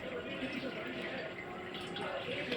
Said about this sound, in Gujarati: હવે આપણે 1 કપ જેટલું મેં ઠંડુ પાણી એના ઉપર હું રેડીશ